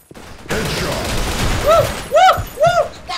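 Bursts of gunfire in the Blackshot shooter video game, a dense rattling volley followed by several sharp, loud shots in quick succession, with game effects behind them.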